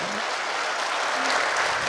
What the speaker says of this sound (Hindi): आपने अच्छा लग रहा है आपको, तालियां बजा दीजिए।